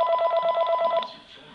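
Telephone ringing for an incoming call on a Linksys WRTP54G VoIP router line, a rapid warbling electronic ring pulsing steadily for about a second, then cutting off into quiet room noise.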